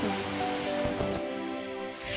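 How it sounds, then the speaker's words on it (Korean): Mountain stream water flowing steadily at Sobaeksan, a broad continuous rush heard close and fairly loud with no talk over it. "물소리랑."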